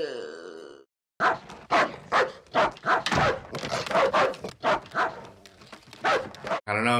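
A dog barks repeatedly in a scene from the 1988 film Midnight Run, a string of loud, close, evenly spaced barks with a brief silent gap near the start.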